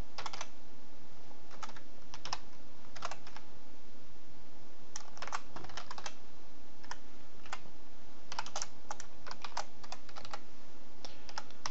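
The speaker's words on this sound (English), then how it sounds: "so I'm getting a little tired of typing." Someone types on a computer keyboard while writing C++ Qt code for a TCP server, the keystrokes coming in scattered bursts and clusters of quick clicks, close and moderately loud, with no talking.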